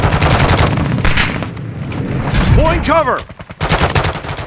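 Rapid automatic gunfire rattles in loud bursts during a Call of Duty: Warzone 2.0 match, several volleys close together with a brief lull near the end, while a game voice speaks over the shooting.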